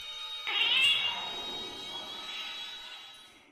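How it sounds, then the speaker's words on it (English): A single drawn-out video game cat meow from a black cat, loud and close at first, then trailing off slowly over a few seconds with no talking. "Sounds like a cat meowing, if you ask me."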